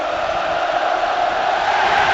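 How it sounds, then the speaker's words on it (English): Football stadium crowd roaring and cheering for player Liam Henderson, a broad steady wash of voices that swells slightly, loud and distant-sounding, with no distinct speech. "Superb cheer for Henderson."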